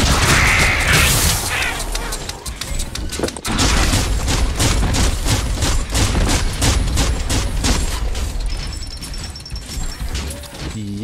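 Rapid bursts of gunfire crackle continuously and loudly during a boss fight in the video game Biomutant, with dense repeated shots and occasional sharp blasts throughout.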